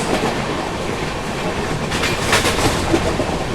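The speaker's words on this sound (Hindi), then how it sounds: "सामने से अपनी आ रही है रायपुर गोंडिया जनशताब्दी एक्सप्रेस" The Raipur-Gondia Jan Shatabdi Express approaches on the rails with a loud, steady rumble and rolling clatter that build slightly toward the end, heard close by with no voices.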